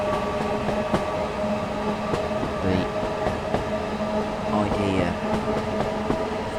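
A diesel multiple unit train in Train Sim World 5 drones at steady, close-up volume with a low engine hum and occasional rail clicks, while faint voices murmur underneath.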